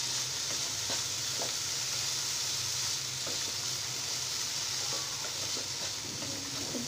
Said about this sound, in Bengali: ভালো করে তেলের সাথে একটু মিশিয়ে নিচ্ছি।